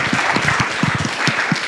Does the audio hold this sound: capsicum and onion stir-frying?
no